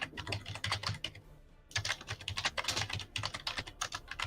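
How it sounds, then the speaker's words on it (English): Loud, rapid clacking of keys on a computer keyboard during a tabletop wargame session, with dense, continuous keystrokes close to the mic and a brief pause before typing resumes. "That is some loud typing."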